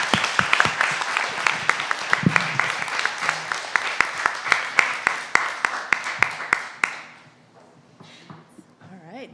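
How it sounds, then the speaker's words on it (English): A crowd claps and cheers loudly for several seconds with a few sharp individual claps standing out, then the applause fades quickly to quiet murmuring. "Let's give all of them a giant round of applause."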